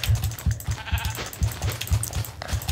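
Sheep bleating in a modded Minecraft-style technic game, a steady run of short rhythmic bleats over busy game sound, loud and close.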